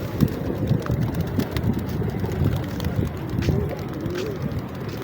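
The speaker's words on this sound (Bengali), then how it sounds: "দেখেন কবুতরগুলো কিভাবে আসতেছে" Pigeons at the Al-Aqsa mosque compound, low soft cooing and faint flutters amid outdoor wind noise and a murmuring crowd in the background.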